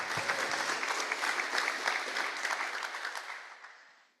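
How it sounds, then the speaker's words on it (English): Members at a Rotary Club of Gainesville meeting give a round of applause, dense clapping from a room full of people that holds steady and then fades out over the final second. "That needs another round of applause."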